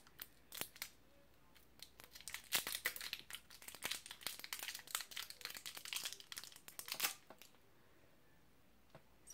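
A plastic candy wrapper with a crinkle-cut edge, opened up alongside a cute ring, gives off a long run of close, sharp crinkling and rustling, loud at first and fading toward the end.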